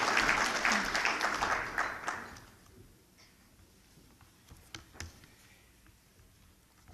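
Applause from diners at a chamber of commerce annual dinner: a loud burst of crowd clapping that fades quickly after about two seconds, leaving a few scattered claps.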